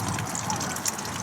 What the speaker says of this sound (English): you just simply take the bucket into the bathroom in your motorhome and pour it down the toilet.